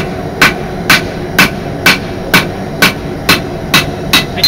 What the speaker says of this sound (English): we'll use the cross peen of the hammer to start to flatten